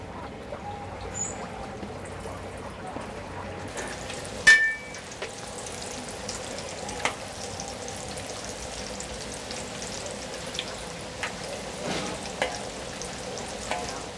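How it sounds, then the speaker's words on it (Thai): Khanom kuay tat dough deep-fries in hot oil, a soft, steady bubbling sizzle close by, with a brief clatter of a utensil partway through and occasional faint clicks. "เราสามารถ นำขนมลงไปทอดได้เลยนะคะ"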